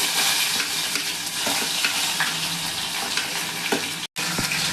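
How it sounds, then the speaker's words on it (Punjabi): Garlic and cumin seeds frying in hot oil for tempered moong-masoor dal, a continuous close sizzle with occasional spatters and stirring scrapes, briefly cut off near the end. "ਲਸਣ ਨੂੰ ਆਪਾਂ ਹਲਕਾ ਜਿਹਾ ਭੁੰਨ ਲਵਾਂਗੇ"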